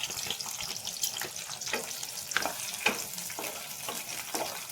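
Dill greens with green chilli and crushed garlic sautéing in a pan, a continuous crackling sizzle broken by repeated stirring scrapes, close and fairly loud with no talking.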